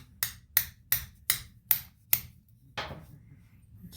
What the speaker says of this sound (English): Just center up your socket a little bit, give it a few taps.